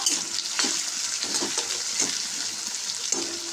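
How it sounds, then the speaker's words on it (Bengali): Bay leaves fry in hot oil in a kadai on a village kitchen stove, giving a soft, steady sizzle with a few scraping stirs, close and quiet with no voices. "তেল গরম হয়ে গেছে, দিয়েছি তেজপাতা"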